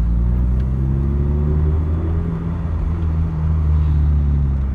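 Interior rumble of a rat-style car cruising through city streets in the evening, a steady low engine drone with slight rises and falls, no talking.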